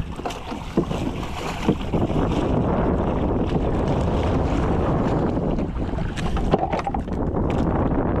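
Steady, loud engine drone of a fishing boat out at sea on the Pacific during skipjack tuna fishing, running continuously with rushing wind and water noise and no talking.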